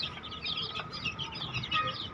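Soft chicken clucking and chattering from several birds over a low background murmur, fairly faint.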